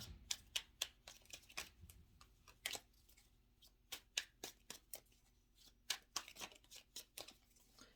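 A fresh deck of playing cards is shuffled and riffled, giving a run of sharp, crisp flutters and snaps at an uneven rhythm, close and fairly quiet with no talking.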